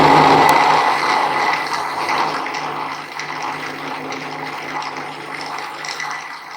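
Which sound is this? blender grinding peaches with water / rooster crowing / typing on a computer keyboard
blender grinding peaches with water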